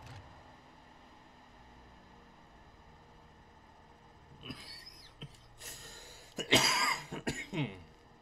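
A person with a cold coughs several times in quick harsh bursts, close and loud, after a stretch of near silence with faint throat sounds.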